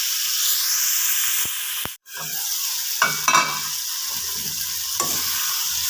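Tomatoes cooking with turmeric and fenugreek powder in a pan, giving a loud continuous hissing sizzle broken by a brief pause, then a few scraping stirs and steamy spurts, heard up close.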